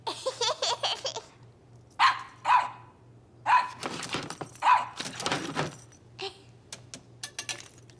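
A small dog yaps in short, sharp barks, several in quick succession, then scattered bursts with brief pauses, fairly close.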